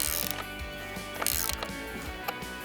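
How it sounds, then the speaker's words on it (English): Close ratchet clicking as leg bolts are tightened into cedar deck posts, a few quick bursts of metallic pawl clatter with brief pauses between strokes. "Now we're putting in the leg bolts to hold the posts in nice and tight."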